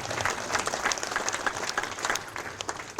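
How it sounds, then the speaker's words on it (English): An audience applauds at the dedication of a county public safety facility, sustained crowd clapping of many hands that stays even and moderately loud from start to finish. "You can clap, that's good."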